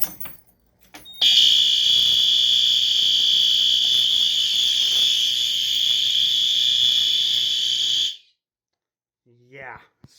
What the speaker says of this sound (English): Yeah, SpectrAlert Advances are loud.